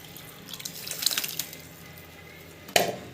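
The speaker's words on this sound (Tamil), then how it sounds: "இந்த ஸ்டேஜில் புளி கரைச்சி தண்ணி வந்து" Tamarind water is poured into a cooking pan of sautéed ingredients, giving soft splashing and trickling sounds with a sharper splash near the end, fairly quiet and without talk.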